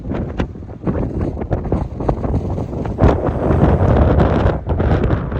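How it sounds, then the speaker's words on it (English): Strong mountain wind gusts on Hawaii's Big Island pounding the microphone in loud, uneven bursts, a continuous blustery roar with no talking. "when you get up into the mountains, it gets windy"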